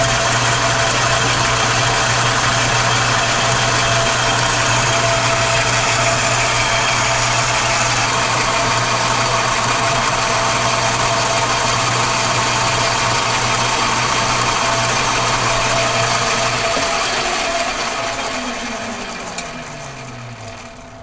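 Metal lathe making the final turning pass on a steering shaft, a steady motor drone with a constant low hum that winds down and fades out near the end.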